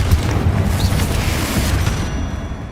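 Explosive Bombarda and Confringo spell blasts from the Hogwarts Legacy video game, a sustained loud rumbling boom with crackling bursts that fills the whole stretch without a break.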